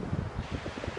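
Strong wind buffets the microphone at a seaside bay campsite in South Australia, producing a continuous low rumbling roar with gusty flutter.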